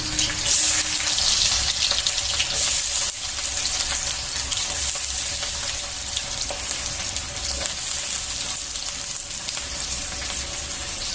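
Chopped onions fry in a hot kadai for a Chicken Masala, giving a loud, steady, close sizzle that hisses on without pause and with no talking.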